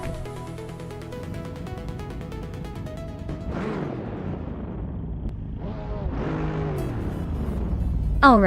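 Race cars roar off the line in a racing video game at the Kotama Reverse track, engines revving and shifting through layered synthetic tones, with a crash-like burst midway and game music underneath.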